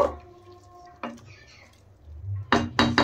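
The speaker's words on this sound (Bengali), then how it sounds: "এখন নেড়ে দেব" A spoon stirs sugar and garam masala powder into vegetable navratna pulao in a cooking pot on a medium gas flame, giving a few sharp metallic clinks and scrapes near the end over a quiet background.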